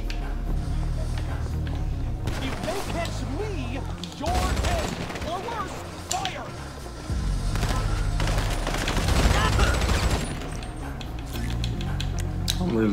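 Rapid gunfire raking the player in GTA Online, bursts of automatic shots and impacts coming in uneven waves over a heavy game soundtrack, with someone talking through it.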